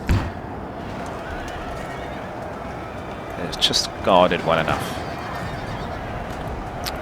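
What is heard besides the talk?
cavalry horses neighing in Napoleon: Total War video game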